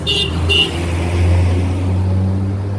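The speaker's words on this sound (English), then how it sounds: "Here comes the Triolet bus." A Triolet bus pulls up on a roadside in Pamplemousses, Mauritius, with a loud, close engine drone and two short high horn toots at the start, the rumble holding steady as it arrives.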